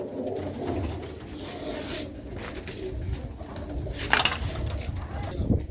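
Pigeons coo in a loft at a village fair pigeon gathering, their low throaty calls rolling steadily over background noise, with a brief sharper sound near the end.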